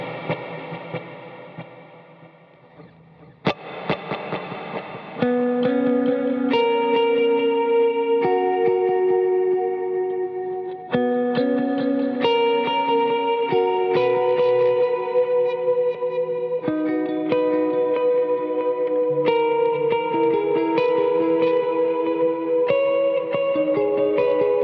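Electric guitar played through a pedal board delay effect rings out in clear picked notes and sustained chords, each repeat echoing behind it. A quiet opening gives way to a loud, even passage.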